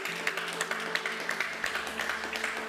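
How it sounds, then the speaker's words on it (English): Audience applause at an East Africa Impact Days gathering, a steady wash of many hands clapping at moderate level, continuous throughout with a faint tonal hum underneath. "it could be applause from the audience here"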